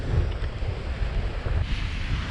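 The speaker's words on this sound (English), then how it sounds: "Battered by the winds. Yeah. We've got the waves battering us with spray." Strong coastal wind buffets the microphone in a constant roar on the Wales Coast Path, with waves crashing and spray sweeping in underneath, loud and unbroken with no talk.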